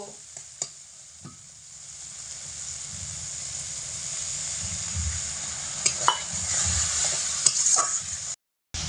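Four cracked cardamom pods fry and sizzle in a pan for a vegetarian potato and eggplant dish, a steady close hiss with a spoon scraping and stirring through it and a few sharper clicks.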